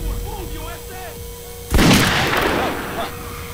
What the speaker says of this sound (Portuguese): Muito legal a Desert Eagle.